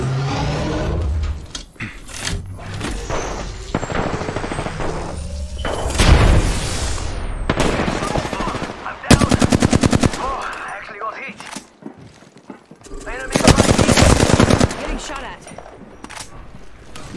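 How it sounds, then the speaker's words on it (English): Video game gunfire in a shooter, repeated bursts of automatic fire and single shots with booms, loud and irregular, while players shout over it. "Fire in the hole! Fire! Getting shot at. Firing!"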